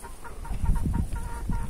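Backyard chickens clucking close by, a series of short, repeated clucks over a low rumbling background, no speech.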